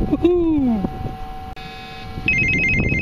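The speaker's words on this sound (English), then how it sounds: "That's my alarm" A short electronic phone alarm ringtone plays in a few bright beeping tones, close by, with some background noise underneath.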